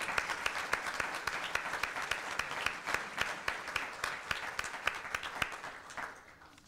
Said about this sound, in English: So please give all of our speakers a round of applause.